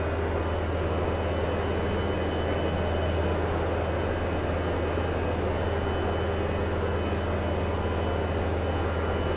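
Powered parachute engine in Microsoft Flight Simulator 2024 during a landing, a steady loud droning hum with a constant low tone and no change in pitch throughout.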